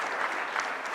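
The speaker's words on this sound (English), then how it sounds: "I want to applaud Anna for getting those people here today" An audience at a nature advocacy meeting in Iowa breaks into applause, a short burst of steady, close clapping from many hands.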